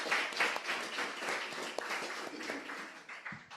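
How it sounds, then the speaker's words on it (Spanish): A church congregation claps in applause, a brief lively burst of many hands clapping at moderate distance, fairly quiet and uneven. "Denles un aplauso"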